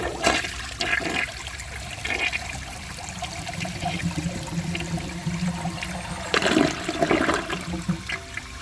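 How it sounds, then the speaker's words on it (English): A Mainstays high-efficiency toilet flushes with its handle held down, a loud rushing, swirling flush of water running steadily for several seconds, with louder surges near the start and again toward the end. "now I'm going to hold the handle down and see if I can make that flush any better"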